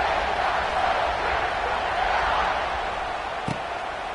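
A college football stadium crowd roars in a dense, sustained wash of cheering, with a single sharp thud near the end.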